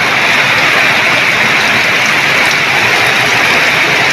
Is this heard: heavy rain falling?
yes